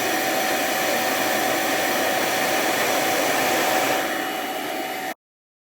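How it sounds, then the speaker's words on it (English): Blow dryer running continuously at close range while drying a washed K&N air filter, a loud, steady whooshing roar with a faint whine that shifts slightly near the end before abruptly cutting off. "we're going to strategically blow dry this bad boy right"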